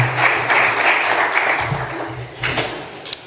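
An audience claps steadily at a business conference, welcoming the next speaker to the stage; dense, even applause fills the room for a few seconds before tapering slightly.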